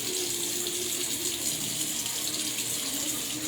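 Lukewarm water runs steadily from a tap onto skin during face washing, a constant close hiss and splash with no break and no talking.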